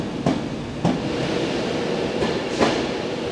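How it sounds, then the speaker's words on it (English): A passenger train rumbles past steadily near Moreton-in-Marsh with a broad roar, punctuated by a few sharp clacks of wheels over rail joints; no voices. "there goes the preceding train"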